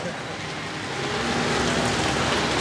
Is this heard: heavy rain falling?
yes